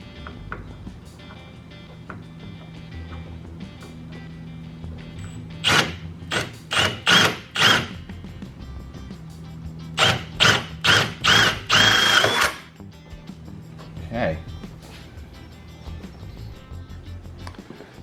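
A power drill with a 5/16 bit boring a hole near the valve cover of a Dodge Challenger 392, two bursts of short repeated whirring pulses, the second longer, separated by quiet pauses with faint background hum.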